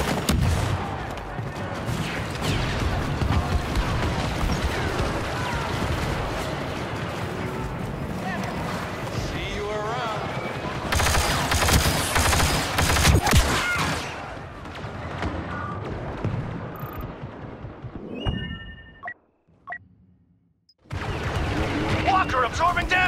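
Blaster fire and explosions in a Star Wars Battlefront II battle on Endor, as Rebel forces pound an AT-AT walker; dense, loud continuous gunfire and blasts with a brief drop near the end, and voices call out over the combat.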